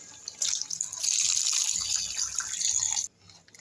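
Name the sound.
water poured into mutton curry for gravy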